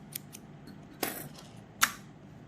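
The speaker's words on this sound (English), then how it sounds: "I'm going to cut those ends." Scissors snip yarn ends on a knitted raggy comfort doll, giving a few quick, close, crisp cuts, with two sharper snips standing out against a quiet background.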